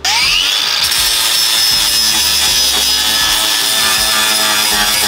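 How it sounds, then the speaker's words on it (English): Abrasive tool roughening the metal body of a VW car to key it for fiberglass and resin, a loud continuous grinding rasp that holds steady throughout. "So I'm making it all rough so the resin and the fiberglass actually take to the metal of the body."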